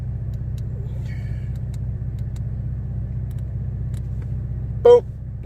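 A car driving through a snowstorm gives a steady low engine and road rumble that holds through the whole stretch, with a brief louder squeak or clatter near the end.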